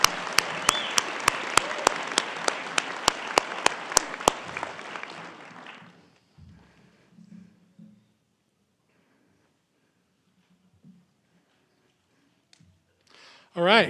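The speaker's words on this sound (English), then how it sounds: "Let's give her another round of applause," Graduation audience applause at a 2025 school ceremony, loud dense clapping with a few sharp claps standing out, fading out after about five seconds into near quiet with brief faint murmurs and a voice at the end.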